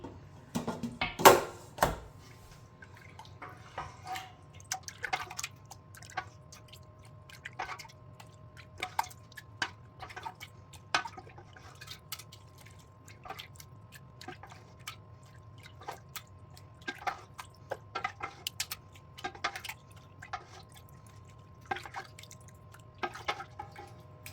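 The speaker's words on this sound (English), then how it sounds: "I'm just going to shake this up a little bit to really get the whey out of this before we add in the other curds" Goat milk mozzarella curds being shaken to drain the whey, giving scattered wet drips, squishes and small splashes over a low steady hum, irregular and fairly faint, with no one speaking.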